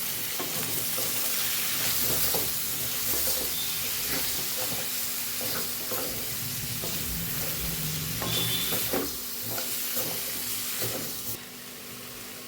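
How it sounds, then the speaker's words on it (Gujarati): Spoon stirring sugar into sizzling dry potato bhaji for Shivratri, steady frying hiss with scraping strokes throughout, close and alone without talk. "હવે આપણે સરસ આપણે મિક્સ કરી લઈશું"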